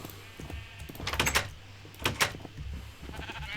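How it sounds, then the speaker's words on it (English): Sheep bleat in the video game Minecraft on a farm area, with two or three clear, close bleats spaced a second or so apart among light background sound. "Whole heap of sheep."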